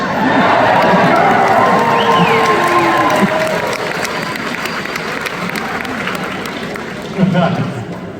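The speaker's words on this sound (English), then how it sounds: "We got people applauding the Catholic Church." A live studio audience at a Green Valley Ranch comedy show claps and cheers loudly, the applause and whoops swelling at first and then easing into a softer ovation with voices mixed in.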